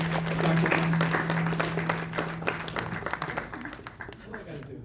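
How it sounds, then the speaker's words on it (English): A crowd applauds, the clapping dense at first and thinning toward the end, with a steady hum underneath. "can we get a round of applause for"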